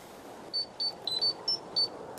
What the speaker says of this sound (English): I almost went a whole recording session without my phone going off.